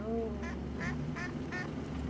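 Several ducks quack in a rural hamlet in remote China, four or five short nasal calls in a loose rhythm over a steady low background hum, fairly close.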